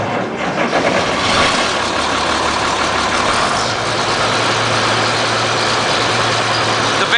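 An Oliver 1850 tractor diesel engine running at a steady idle after a cold-weather start with the block heater plugged in, a continuous low rumble with a constant droning hum close by.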